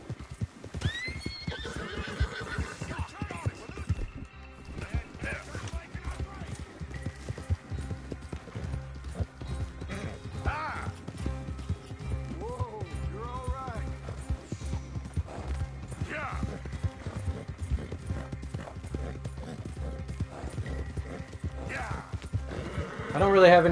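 Steady galloping hoofbeats of a horse in Red Dead Redemption 2, continuous rhythmic clip-clop with occasional whinnies over a constant ambient bed, no talk.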